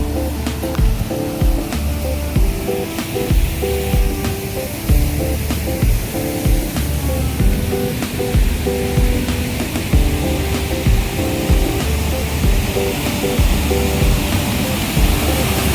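Loud, steady rush of waterfalls and a fast-flowing rocky mountain stream at Pak Mong stream in Hong Kong, a dense continuous roar filling the scene without pause.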